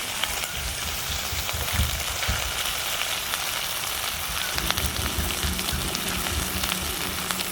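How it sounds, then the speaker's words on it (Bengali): Onion dropped into hot oil, bursting into a loud, dense sizzle that crackles like heavy rain and holds steady throughout, close up with no voices. "তেলটা গরম হয়ে গেছে, এবার পেঁয়াজটা দিয়ে দেবো।"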